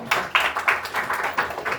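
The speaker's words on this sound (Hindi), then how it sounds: "हम ताली मारेंगे" A congregation at a night prayer service claps hands in a steady rhythm of crisp, fairly close claps, roughly three per second, with no other sound.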